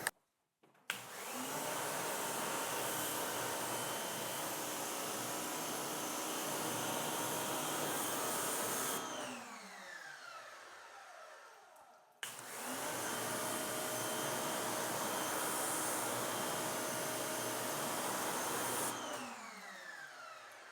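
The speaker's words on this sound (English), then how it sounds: "Let's see what this looks like with the pressure washer nozzle." A pressure washer nozzle sprays water onto a car's sealant-coated paint in two long, loud, steady hissing bursts, the first about eight seconds and the second about seven, separated by a short pause.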